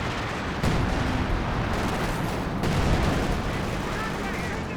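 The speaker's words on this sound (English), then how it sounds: "We've got some sort of artillery barrage and major artillery, unvetted, so no improved artillery" Artillery barrage in Company of Heroes 2: a dense, loud rumble of battle with heavy blasts, including two sharp impacts early and midway, layered over continuous gunfire and explosions.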